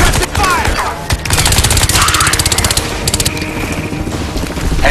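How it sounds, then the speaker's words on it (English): Suppressive machine gun fire in the shooter game Crysis 3, loud close bursts of rapid automatic shots with sharp clattering reports and brief gaps between volleys. "Laying down suppressive fire!"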